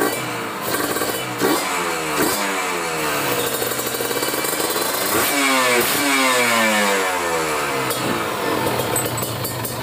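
Kawasaki Ninja RR two-stroke motorcycle fitted with a PWK30 carburetor, revved in several sharp rising throttle blips from a steady idle, loud and close with no talking.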